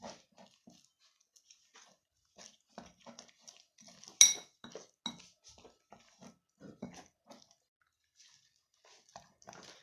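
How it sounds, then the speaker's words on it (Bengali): Malpua batter of flour and milk being beaten by hand in a bowl, a steady run of quick, light clicking and tapping strokes with one sharper clink of the utensil against the bowl partway through. "এটাকে ভালো করে ফেটাতে হবে।"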